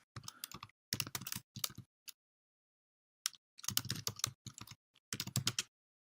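A domain name being typed on a computer keyboard, with quick bursts of close key clicks separated by short pauses, fairly quiet and with no voices.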